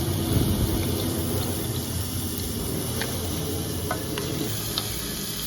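Onions sautéing in a pan at a Chicago farmers market: a steady low sizzle with a broad wash of background hiss, faint clicks and ticks scattered throughout, no voices.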